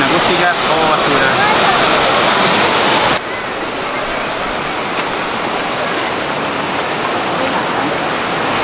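The Salto del Laja waterfall roars as a loud, continuous broadband rush of falling water, heavier for the first three seconds and then slightly softer and steady.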